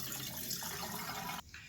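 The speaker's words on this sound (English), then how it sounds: "I like to rinse that off the potato." Running water rinsing cut potatoes for French fries, a close, steady splashing flow that cuts off briefly near the end, faint and without talk.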